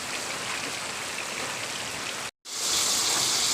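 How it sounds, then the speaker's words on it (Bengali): Heavy rain pours steadily outside as a dense, continuous hiss, broken by one brief silent gap before resuming slightly brighter. "বাহিরে প্রচণ্ড বৃষ্টি পড়তেছে"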